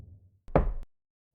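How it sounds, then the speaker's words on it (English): A single dull fist knock on a bathroom door, one short thud standing alone, followed by silence. "I heard the faint sound of a single knock on the bathroom door."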